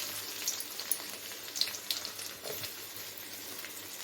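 Chopped garlic sizzles in a pan, a soft, steady hiss with scattered faint pops, heard alone at low volume.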